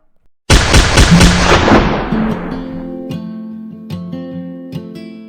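A loud firing-squad volley cracks out at once in an execution reenactment, its echo rolling away over a few seconds while low sustained musical tones carry on underneath.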